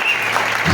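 A church congregation claps steadily through a Sunday thanksgiving service, a dense, close wash of applause that swells slightly toward the end.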